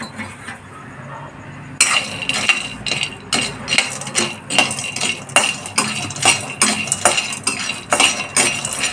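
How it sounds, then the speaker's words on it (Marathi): Peanuts being stirred and roasted in a pan, with a steady run of clinking and scraping as the utensil moves them, close and fairly loud, starting after a quieter first two seconds. "आता हे शेंगदाणे भाजून घ्यायचे"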